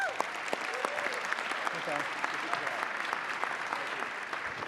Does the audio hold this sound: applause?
yes